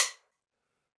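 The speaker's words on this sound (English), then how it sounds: "rim sound, which sounds like this" One crisp rim hit from a drum sample for a track, snapping at the very start and decaying within a fifth of a second, alone and dry.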